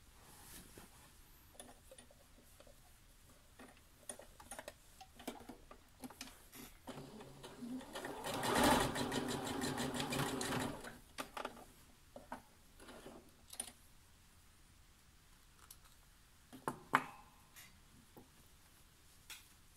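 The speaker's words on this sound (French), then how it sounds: "je couds cette petite partie-là sans prendre bien sûr la manche qui est en dessous" A sewing machine stitches a tunic neckline in one short, faint burst of rapid whirring at close range, set among quiet handling clicks and rustles.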